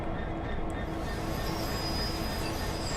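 Train pulling away in Train Sim World 2 on the Brighton Mainline, a steady low rumble with a faint high wheel whine running through the whole stretch, no voices over it.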